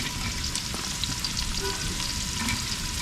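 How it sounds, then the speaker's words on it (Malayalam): Ginger and garlic fry in a hot pan for a Wayanad-style beef bone dish, giving a steady, dense sizzle that stays even throughout with no voices. "ഇഞ്ചിയും വെളുത്തുള്ളിയും ഇട്ട് കൊടുക്കാം"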